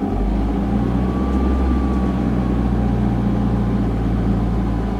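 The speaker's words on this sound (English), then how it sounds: "If I give it some revs, it goes away." A van engine with a rough idle that shakes the vehicle is revved and held at higher revs, giving a steady, loud, continuous low drone close to the microphone with a faint rising whine.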